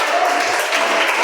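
A church congregation at an evangelical service breaks into brief, dense applause that fills the whole moment evenly.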